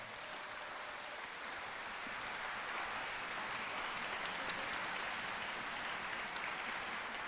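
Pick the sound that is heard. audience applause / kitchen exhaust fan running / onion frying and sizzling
audience applause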